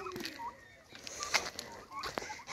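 Chickens at a backyard henhouse cluck in short, scattered calls at feeding time as maize and feed are handed out, with a faint flutter and a brief voice in the background.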